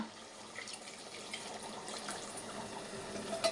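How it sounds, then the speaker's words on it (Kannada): Water pours steadily into a pan of dry chicken being cooked, with a soft hissing splash, close and fairly quiet, continuing without pause for a few seconds. "ಸ್ವಲ್ಪ ನೀರು ಹಾಕೋಣ"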